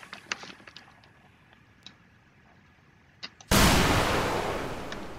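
Sniper rifle fire in the Roblox game Wild West, with scattered light clicks and taps first and then a sudden loud blast whose echoing tail slowly fades, close and isolated.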